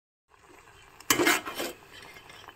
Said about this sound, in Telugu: రొయ్యల్ని ఉప్పు, పసుపు వేసి ఒకసారి కడిగిన తర్వాత నిమ్మకాయ కూడా వేసి కడగాలన్నమాట